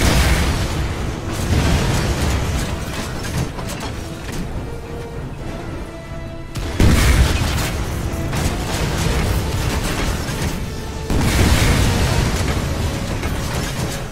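Loud booming blasts of cannon fire in Lost Planet 2, several heavy bursts in succession with rumbling between them, no talking.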